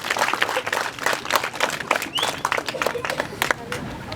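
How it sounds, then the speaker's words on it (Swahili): Applause at a primary school ceremony, with a crowd clapping in a dense, irregular burst close by alongside some background voices and crowd murmur. "Makofi"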